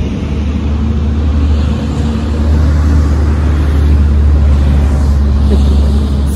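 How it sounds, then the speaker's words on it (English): A big truck rolls past on a city street, a loud, steady low rumble of engine and tires that swells slightly and holds close throughout. "here comes a big truck"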